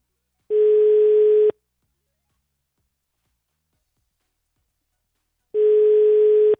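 Unanswered telephone ringback tone, two identical steady one-second tones spaced about five seconds apart, clear and loud against silence.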